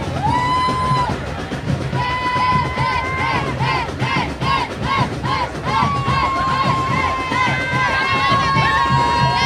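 A carnival crowd at the Orange Walk Carnival cheers and shouts loudly and continuously, a dense roar of many voices with whistles or pitched calls cutting through over a band's music.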